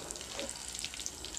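Mustard seeds and urad dal sizzle in hot sesame oil, a faint, soft crackling fry with scattered tiny pops over a short stretch.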